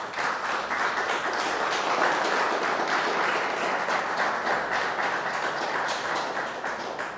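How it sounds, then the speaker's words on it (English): Audience clapping at a startup event, a dense, steady round of applause from a crowd, continuous and fairly loud throughout, with no talking over it. "can we get a round of applause for Carr?"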